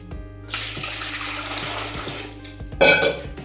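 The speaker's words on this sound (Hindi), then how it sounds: "इसमें डाल देते हैं वापस से पानी" Water is poured back into a bowl of fenugreek leaves, a steady splashing pour that pauses and then briefly splashes again with a brighter, louder gush.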